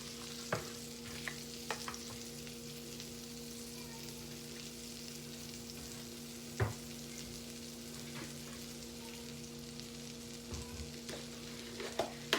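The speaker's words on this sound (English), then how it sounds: "Have kept a kadai and I'm adding the butter to it." Butter sizzles and crackles in a kadai, a quiet continuous frying hiss with scattered pops and occasional scraping clicks, close by and without talk.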